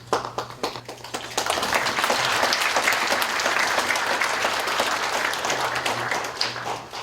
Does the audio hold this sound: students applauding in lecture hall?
yes